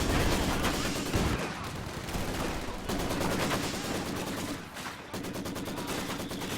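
Dense MG42 machine gun fire amid a Company of Heroes 2 battle, continuous rapid bursts layered with other gunfire and explosions, loud and unbroken throughout.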